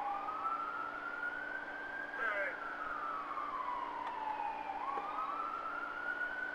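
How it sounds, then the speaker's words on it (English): A wailing siren rises and falls in long sweeps, steady and fairly loud over background traffic noise. "Sirens."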